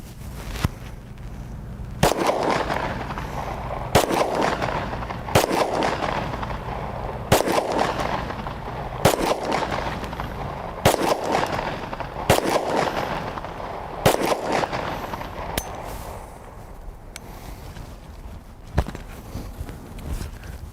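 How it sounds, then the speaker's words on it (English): Glock pistol gunshots ring out as a frozen gun is shot to free it, nine or ten sharp, loud reports spaced about two seconds apart outdoors, each trailing into a dull rumble. "got it shot a few times"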